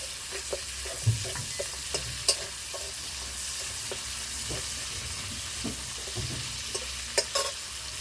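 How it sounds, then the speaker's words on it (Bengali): Four dried red chillies and a few garlic cloves fry together in oil in a pan, a steady close sizzle broken by scattered scraping stir strokes and occasional sharp pops. "এর মধ্যে চারটে শুকনো লঙ্কা দিয়ে দেবো আর পাঁচ ছকা রসুন এগুলো সব একসাথে ভেজে নেবো"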